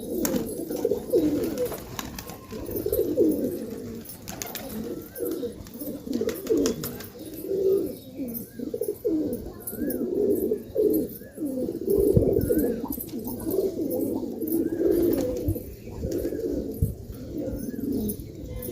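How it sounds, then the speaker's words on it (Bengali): Native giribaz tumbler pigeons in a home loft coo steadily, soft throaty rolling calls repeating close by in overlapping rhythm, with a few faint chirps above and no talking. "এগুলো সব গিরিবাজ কবুতর, আমার দেশি গিরিবাজ এগুলো।"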